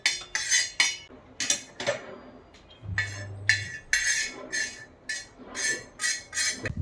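A spoon scrapes and clinks against a metal pan and bowl while roasted turmeric is scooped out, giving a series of sharp, close metallic taps and scrapes in an irregular rhythm, with no talking.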